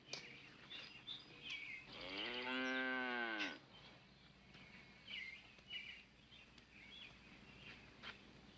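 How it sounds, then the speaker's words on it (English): A single mid-length cow moo rises out of faint background noise near the middle, with light chirping sounds scattered around it and no talking. "What do I know about milking a cow?"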